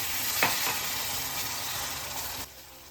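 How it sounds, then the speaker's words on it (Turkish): Semolina halva with sugar, milk and water being stirred in a pan, a close steady sizzle and soft wet scraping for a few seconds with no talk. "1 su bardağı da su ekleyip topaklanmasına müsaade etmeden 2-3 dakika daha karıştırıyoruz"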